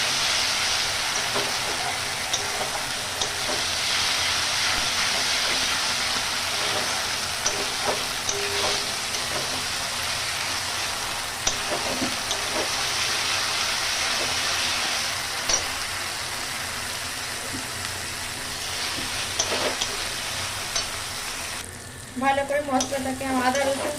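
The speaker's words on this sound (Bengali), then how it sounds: "এটাকে আমি আবার একটু ভালো করে কষে নেবো" Ginger paste and spices fry and get stirred for a Bengali-style mutton curry, a steady loud sizzle with scraping strokes throughout, then a brief clatter near the end; no voices.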